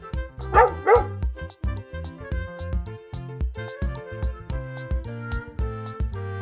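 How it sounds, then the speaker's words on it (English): A farm dog barks twice, near and loud, over a busy bed of music that carries on alone afterward. "Farm dog."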